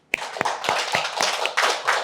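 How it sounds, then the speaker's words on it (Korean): An audience breaks into applause at a reading of a literary piece, a rapid, dense clatter of many hands that starts abruptly and keeps going steadily, with a few sharper individual claps standing out near the front. "다들 박수."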